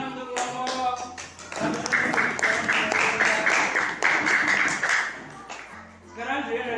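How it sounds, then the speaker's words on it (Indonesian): Classroom applause for a student group after a presentation, a stretch of steady clapping from a room of pupils with voices and talk at the start and end. "Beri tepuk tangan untuk kelompok."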